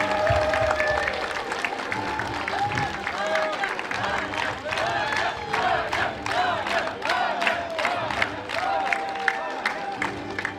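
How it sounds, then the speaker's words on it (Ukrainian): Enthusiastic applause and cheering ring out at a school award ceremony for the last bell, with dense clapping and whoops from a large crowd of students, sustained for about ten seconds. "Вітаємо шаленими оплесками."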